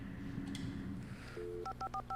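Telephone keypad tones in the video game Alan Wake, a series of short electronic dialing beeps in quick succession over a low ambient hum, quiet and close.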